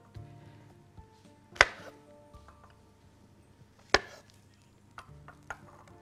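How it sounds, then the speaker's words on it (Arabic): Mushrooms being chopped into halves with a knife on a board, two sharp distinct chops and a couple of lighter taps, quiet kitchen hum in between. "المشروم هنقطعه نصاص يمكن برضو"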